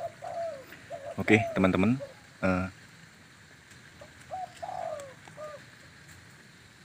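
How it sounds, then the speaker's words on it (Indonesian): Spotted doves (tekukur) give soft, repeated coos outdoors with light rain in the background, while a voice talks over part of it. "Di sini tekukurnya lumayan banyak."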